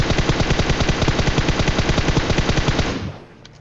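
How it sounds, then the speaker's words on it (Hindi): Rapid automatic gunfire in a battle royale shooter match on a bridge, a loud sustained burst of evenly spaced shots for about three seconds that then cuts off into quiet. "मैंने थोड़ा मूवमेंट करते हुए फायर किया"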